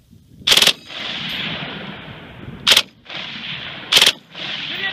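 A C9 squad light machine gun fires three loud, short full-auto bursts outdoors on a shooting range, each burst leaving a long echoing tail and a hiss of background noise between them.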